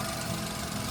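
A 2021 Maruti Alto 800 VXi idles with a steady, close low engine hum and faint vibration, unbroken through the short moment.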